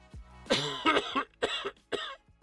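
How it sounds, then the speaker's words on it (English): Several harsh coughs close up from a throat tickle, a long raspy one followed by three shorter hacks in a row. "Coughing up a lung."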